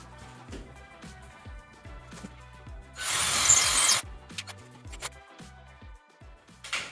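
A power drill drives a screw into drywall while a drying rack is being installed: a loud, rough burst of about one second stands out from quiet handling clicks and knocks before and after, with no talking.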